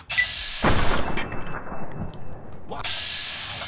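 Gunfire in the game Fallout New Vegas: a sharp shot bursts out early, followed by a couple of softer thuds and a second blast near the end, over a steady hiss of game ambience.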